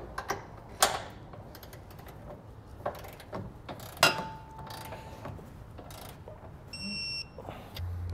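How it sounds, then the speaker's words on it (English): Torque wrench tightening trailer hitch fasteners on a 2022 Chevrolet Colorado, a few sharp metallic clicks and ratcheting sounds spaced apart over faint workshop background, with a short beeping tone near the end. "come back with our torque wrench here and torque down each of our fasteners"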